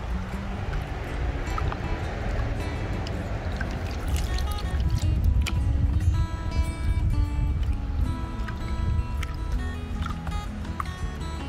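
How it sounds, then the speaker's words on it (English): Sand and water slosh and swirl in a gold pan as blonde sands are washed off, a continuous wet churning with trickles and small splashes close by. "So we're just gonna keep on stratifying and panning, taking these blonde sands off."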